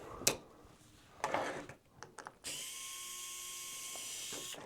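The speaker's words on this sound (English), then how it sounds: "Just got to be careful that you don't strip the plastic when you're using this because of the fact that it is a power drill" A power drill removing the wheel screws of a small radio-control Axial SCX24 4Runner crawler whirs in short bursts, then runs in one long steady whine, close by with clicks and rattles around it.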